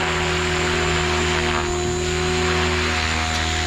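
A Synergy 516 RC helicopter's engine and rotors roar steadily and loudly up close, with a continuous whine and strong tonal drone that holds through as the throttle is pushed up during a check flight.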